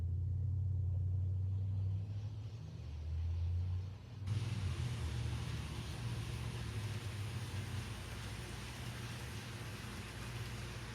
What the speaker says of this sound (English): I think I hear the engine coming